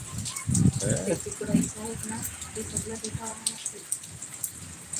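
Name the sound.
monsoon rain falling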